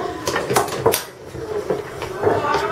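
Cooked chicken being shredded in a pressure cooker pot for potato and chicken broth, with scattered clinks and scrapes of utensils against the pot, fairly close, under a faint voice.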